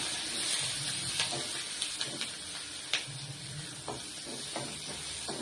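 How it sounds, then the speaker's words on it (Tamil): Onion and garlic sautéing in a pan for a green chilli tamarind dish, heard as a steady, fairly loud hiss with occasional soft stirring taps and no talking. "இப்போ வெங்காயமும் பூண்டு சேர்த்துக்கலாம் நல்லா வதங்கணும்"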